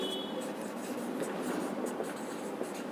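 Handwriting of an equation for a class 10 maths lesson on linear equations, a close, continuous scratchy rustle of pen on paper with no voice over it.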